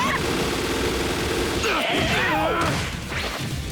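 A bombardment special attack in the anime fighting game My Hero: One's Justice 2: a rapid barrage of blasts and crashes with whooshing effects, loud and continuous before tapering off.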